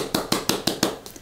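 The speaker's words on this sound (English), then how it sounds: "Here's a round of applause." Close, sharp hand claps ring out six times in a quick, even rhythm, then trail off with a slight room echo.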